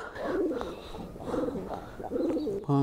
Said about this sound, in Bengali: দেখেন নারীর টানে কিভাবে ছুটে আসে কবুতর